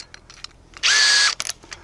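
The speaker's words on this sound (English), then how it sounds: "The next step is to chuck up a long drill bit." Power drill with a long 1/4 inch bit boring into wood: a single short, loud, steady whine lasting about half a second, with faint clicks before and after.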